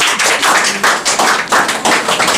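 A classroom of students in a spoken English class clapping loudly together, close and in a steady rhythmic pattern of repeated bursts with no talking over it.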